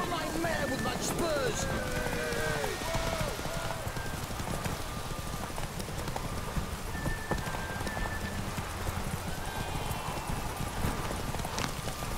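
Horse hooves clip-clop steadily through rain in The Witcher video game, the rhythmic gallop running under constant rainfall, with scattered game voices and ambient music mixed in.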